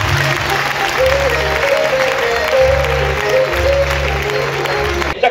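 Crowd clapping at a religious gathering, a dense steady roar of many hands over a repeating low musical backing, ending abruptly.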